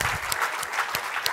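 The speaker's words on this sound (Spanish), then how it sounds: "Dale un aplauso al Señor." A church congregation applauding during a sermon, a steady dense patter of many hands clapping together, fairly close and continuous throughout.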